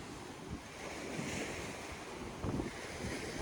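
Storm-driven ocean waves break over a beach rock two hours after high tide during a bomb cyclone, a rolling surf roar with heavy wind buffeting the microphone and sharper crashes at intervals.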